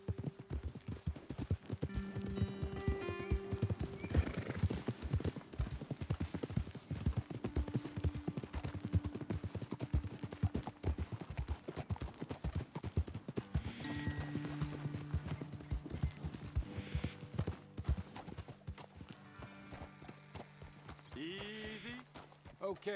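Ridden horses in the video game Red Dead Redemption 2 clip-clop in a quick, steady hoof rhythm, near and fairly loud, while voices talk over the hooves and a horse whinnies briefly.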